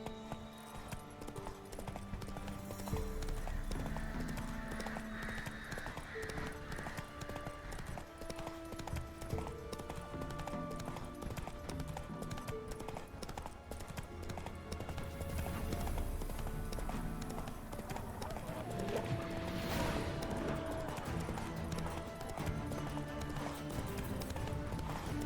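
Hooves of Geralt's horse Roach clip-clop steadily at a run through The Witcher 3, a continuous rhythmic beat under game music, with a brief whinny possible.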